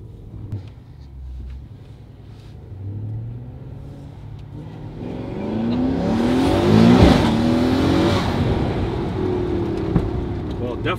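Mercedes S63 engine revving from inside the car, a low rumble rising to a louder, strained roar that peaks and holds, with people talking over it.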